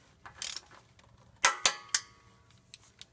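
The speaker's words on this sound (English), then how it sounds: "what I'm doing here with this smaller smaller torque wrench, I'm using 216 inch-pounds" Torque wrench set to 216 inch-pounds tightening transmission pan bolts on a GM truck's 4L80E, giving three sharp mechanical clicks in quick succession after some faint metallic handling noise.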